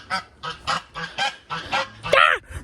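Geese honk repeatedly, about seven harsh, nasal squawks in a steady rhythm, fairly close, with the last call louder and more strained.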